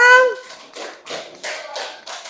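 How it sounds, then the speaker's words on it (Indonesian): A classroom group claps for the winning team at a school tournament, a short burst of uneven hand claps starting just after a voice and continuing in loose rhythm. "Tepuk tangan untuk kelompok"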